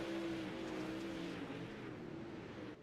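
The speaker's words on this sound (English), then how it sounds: "Matt, we're going green flag racing once again here at the Bull Ring" Sprint cars under green flag racing at a short oval track, a steady distant engine roar with shifting pitch as the cars accelerate down the straightaway, fading slightly toward the end.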